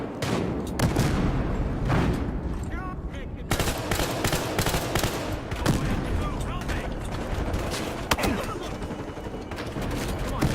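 Dense gunfire from a weapon in the Battlefield: Hardline video game heist mode, with rapid bursts and sharp reports repeating through the whole stretch, loud and close, over steady background game noise.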